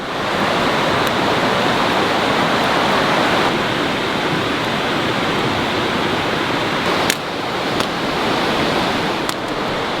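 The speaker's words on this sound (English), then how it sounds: "Roar of the river right by me here." The river in Skagit Valley roars close by as a continuous broadband rush of water, loud and unbroken, with a few faint clicks over it.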